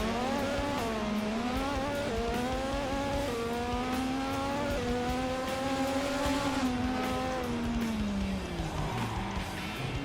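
A race car engine in a Formula One racing video game drones loudly and steadily, its pitch rising and sinking as it revs and downshifts, with a tire squeal near the end.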